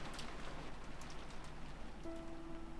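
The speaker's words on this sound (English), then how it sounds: "the sound of the downpouring rain" Heavy downpour in the visual novel Umineko When They Cry, a dense, even hiss of rain on surfaces with scattered drops, steady throughout, with a brief faint tone near the end.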